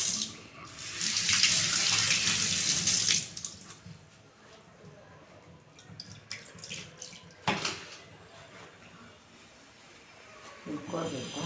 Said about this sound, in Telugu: ఇంకా కొంచెం నీళ్ళు పోసుకొని